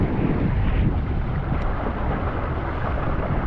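Steady broadband rushing of water past a sailing boat's hull on Lake Bala, constant and close, mixed with wind buffeting on the microphone.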